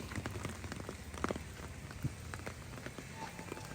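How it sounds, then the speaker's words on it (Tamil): Heavy rain falling on a street decorated with hanging yellow and red flags, a dense constant patter with scattered closer drops striking surfaces, and no speech. "மழை கடுமையாக இருக்குது"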